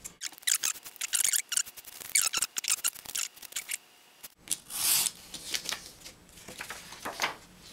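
Cutting out a creeper face panel for a Minecraft Creeper costume skin, a quick series of crisp snipping and scraping cuts, close and fairly loud, followed by softer rubbing and rustling of the material.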